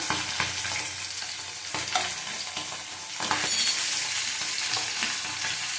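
Ginger-garlic and ginger-cumin paste frying in a pan with fried potatoes, a continuous close sizzle punctuated by several clattering stirs, swelling louder toward the end.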